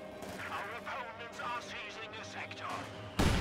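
Conscripts firing in the Company of Heroes 2 strategy game, with a sudden loud burst of gunfire near the end after steady spoken commentary.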